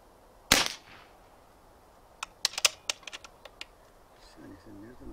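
A Niksan Serpent-S .177 CO2 air pistol fires one sharp, loud shot up close. A scatter of quieter clicks and taps follows, and a voice speaks briefly at the end.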